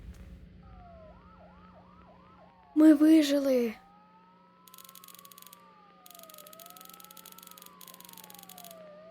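A police siren in a Roblox horror game wails in rising and falling sweeps, fairly quiet and electronic-sounding, with a brief burst of voices and crackly static over it.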